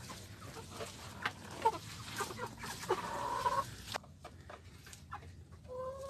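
Hens in a backyard flock clucking intermittently, faint and scattered, with brief sharper calls.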